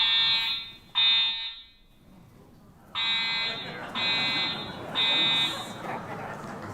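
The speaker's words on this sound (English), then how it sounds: "This event was cut a little short by a fire alarm in the building." A building fire alarm interrupting an indoor lecture event, a loud piercing electronic buzzer sounding in repeated pulses about a second long with short gaps, over faint background murmur.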